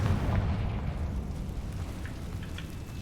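A Confringo fire spell explodes in Hogwarts Legacy, a broad, rumbling blast that decays slowly into a soft crackling wash, fairly quiet with no voice over it.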